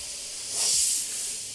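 A siphon-feed airbrush fitted with a 0.5mm needle sprays paint in a broad pattern, giving a close, steady airy hiss that swells slightly midway before easing off, heard alone without talk.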